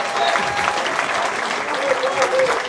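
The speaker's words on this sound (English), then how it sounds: "Wait for the applause." Audience applause at a football academy awards night for Mansfield Town fills the room steadily for a few seconds, a dense, even wash of clapping with a faint murmur beneath.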